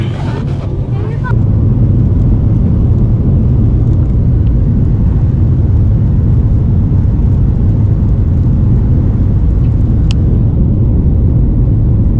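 Steady, loud airplane cabin roar during a roughly two-hour flight over North Korea, a continuous low engine and airflow rumble that persists unchanged throughout, with a few faint clicks and a brief rustle near the start.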